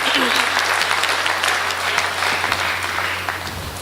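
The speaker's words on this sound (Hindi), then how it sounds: "दोनों हाथ ऊपर उठाकर जोरदार तालियां बजाकर मुझे माँ वागीश्वरी की वंदना की अनुमति प्रदान करें" An audience at a Hindi kavi sammelan poetry recital claps loudly with both hands raised, a dense, steady burst of applause filling the hall before tapering slightly at the end.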